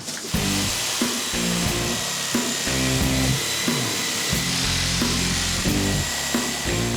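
A power saw grinds steadily through an old kitchen floor down to the joists in a Victorian townhouse, a loud continuous cutting roar with rhythmic pulses as the blade bites, close and unbroken for several seconds.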